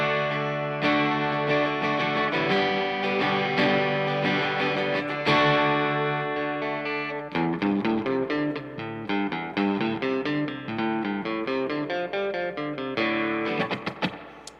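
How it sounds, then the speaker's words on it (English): An electric guitar runs through the mild spring reverb of a Strymon Flint pedal for a classic Fender-style tone. Loud strummed chords and single notes ring out with lingering sustain and a wet tail, with no voices. "So that's going to be like your real classic spring Fender-y sound."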